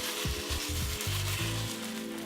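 Meat for enchiladas sizzles in a hot pan, a quiet steady crackle of frying with a few soft low knocks as it is moved around, no talking.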